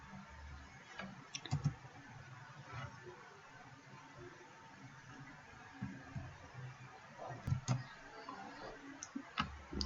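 Mouse clicks in the Cocos Creator editor come as scattered soft, quick taps, quiet and close against a faint room background.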